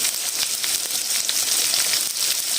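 Chopped green onions sizzle in a frying pan for a chicken vegetable spaghetti, a loud, steady, close hiss of frying throughout.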